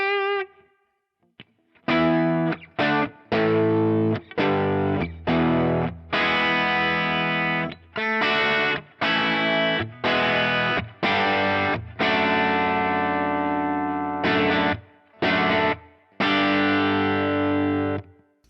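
A PRS Fiore electric guitar played through distortion strikes a run of crunchy, sustained chords and riffs with short gaps between them, loud and close and with no talking.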